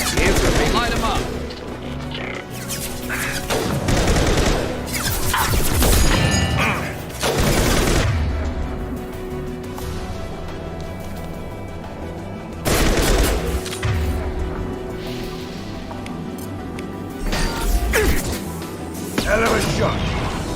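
Mass Effect 2 combat with loud, repeated gunshots and weapon cracks in bursts, some heavy booming blasts, mixed with character voices and a player talking over the action.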